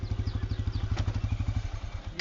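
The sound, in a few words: TVS Apache 160 2V motorcycle engine stalling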